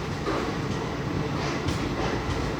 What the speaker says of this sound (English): The locomotive powering our train is a WDP 4D diesel locomotive from Hubli Shed.